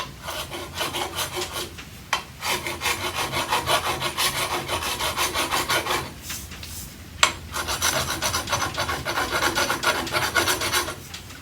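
A hand file rasps burrs off the ends of a garage door spring in repeated close, steady strokes, with two brief pauses.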